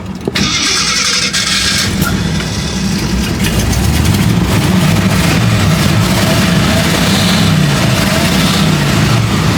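A 52-year-old vintage Jeep Wagoneer engine catches after a brief crank and settles into a loud, rough, rumbling idle that runs on steadily, close by and with no talking.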